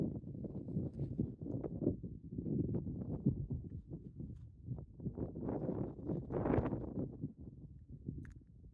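Gusty wind buffets a winter wild camp in the Peaks, a low rumbling roar pressing against the microphone in uneven surges that swell and ease over several seconds, with no voices.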